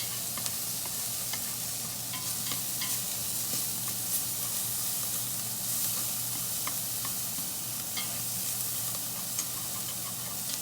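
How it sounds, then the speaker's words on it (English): Spinach and chicken enchilada filling fries in a pan and is stirred, giving a steady sizzle broken by soft scraping and stirring sounds, close and continuous. "continue mixing it"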